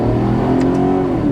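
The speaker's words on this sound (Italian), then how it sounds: "voglio lasciarvi con un'ultima piccola accelerata" A 13-year-old Maserati GranTurismo S engine revs up in a short, loud, steady burst of acceleration, heard close from inside the car with no voices.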